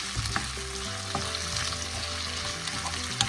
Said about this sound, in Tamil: இப்போ மேரினேட் பண்ணதில் பாதி போக மீதி இஞ்சி பூண்டு விழுத இந்த தாளிக்கிறதுல சேர்ப்போம். அதை பொரிய விட்டு